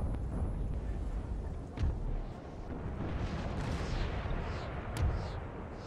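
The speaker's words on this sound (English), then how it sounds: "My artillery's open fire." Artillery batteries fire in a Napoleonic battle in Napoleon Total War, dull booms rolling out from a distance, a couple of them standing out over a steady, dense battlefield din.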